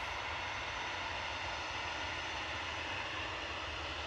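An Airbus A319 jet bound for Brussels departs from Manchester Airport, its engines a steady, dense roar at moderate level, unbroken and without talk.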